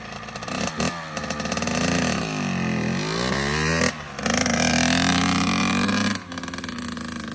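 A Kawasaki KX85 dirt bike engine, just rebuilt and warming up, revs up and down continuously, rising and falling in pitch with a raspy, buzzing tone, close and loud.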